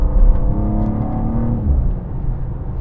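BMW S58 twin-turbo straight-six engine revving, a steady harmonic drone that climbs briefly then settles, loud and close with no talk.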